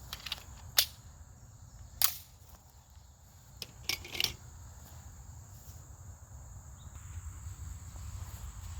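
Pistol gunshots fired with 124 grain target ammo ring out as distant sharp cracks: one, then another, then a quicker pair, over a steady outdoor insect drone.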